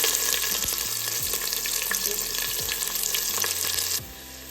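Three large onions and four whole green chillies sizzle and fry in hot oil for chicken biryani, a steady loud crackle with occasional stirring, easing off near the end.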